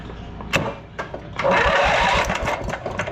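An engine turned over with the key: a short cranking burst, then a louder sustained run of engine noise catching and running steadily, fairly close and without talk.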